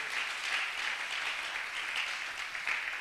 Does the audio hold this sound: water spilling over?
no